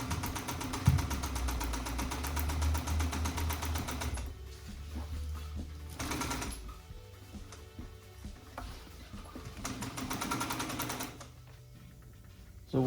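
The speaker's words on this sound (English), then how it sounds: "now I'm going to sew up some double diamonds on here. I'm using a single stitch machine" A single stitch sewing machine runs in quiet bursts while sewing double diamonds, its rapid ticking stitches starting and stopping at low level with pauses between runs.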